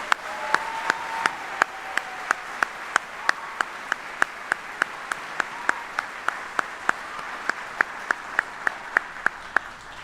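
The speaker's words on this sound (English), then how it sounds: "So please join me in a round of applause for all these soldiers." Audience applause at a Department of the Army retirement ceremony, a steady even clapping texture throughout, punctuated by regular sharp clicks at a close, fixed rhythm.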